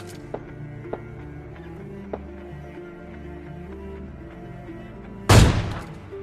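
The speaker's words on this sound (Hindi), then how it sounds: "यहाँ पर मैं फायर करके बता देता हूँ कि भाई यहाँ पर हमें मतलब आके फाइट ले लो" A single sharp gunshot in the battle royale game PUBG Lite, fired once near the end after a low steady in-game ambience with a few faint ticks, loud and close.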